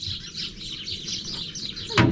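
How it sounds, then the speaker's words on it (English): Birds chirp busily and continuously around a farm yard, a dense layer of bright tweets close by, with a short knock at the end. "Birds are going mad."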